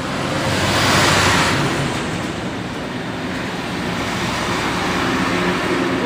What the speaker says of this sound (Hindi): गाड़ी की वजह से ना बहुत ज़्यादा आवाज़ आता है